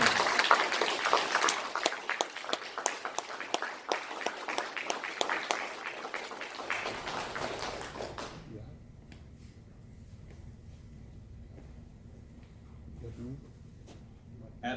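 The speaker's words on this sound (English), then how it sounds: "please join me in another round of applause for the United States Army's newest Second Lieutenant" Loud crowd applause at an Army ROTC commissioning ceremony for a new Second Lieutenant rings out for several seconds, then cuts off sharply, leaving a quieter room with low murmuring.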